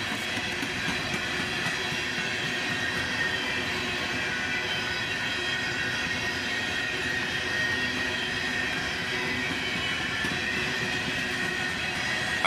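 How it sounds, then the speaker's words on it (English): A northbound freight train led by a single BNSF ES44C4 locomotive hauling empty hopper cars rolls steadily past, a continuous loud rumble with rail clatter and faint wheel squeal throughout. "with a BNSF ES44C4 leading northbound hopper cars"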